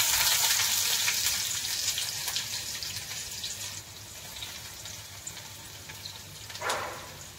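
Chopped onion frying in hot oil with mustard seeds and cumin, a steady close sizzle that gradually settles, with a brief louder burst near the end and no talking.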